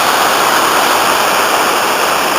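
Thunderous rapids in the Aberglaslyn River gorge after heavy water flow: a loud, continuous, broadband roar of rushing white water, steady and close with no pauses.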